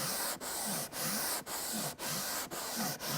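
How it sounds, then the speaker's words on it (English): A wooden hollow column's edge is rubbed back and forth on self-adhesive sandpaper stuck to a dead flat surface, producing steady close abrasive strokes broken by six short pauses as the direction reverses. "an easy way to do that is self-adhesive sandpaper on that dead flat surface."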